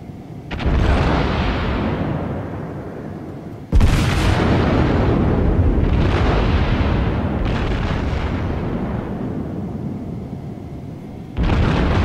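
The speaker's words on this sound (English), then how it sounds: "We're going to have a shot here in just a second. It's only going to be the forward guns." Forward main guns of a warship in World of Warships fire in heavy booming salvos: one blast, a second louder volley near four seconds, a softer rumble, and another report at the end, each trailing off in long roaring decay.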